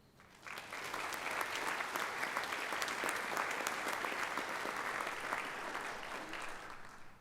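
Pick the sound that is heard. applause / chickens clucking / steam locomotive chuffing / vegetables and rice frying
applause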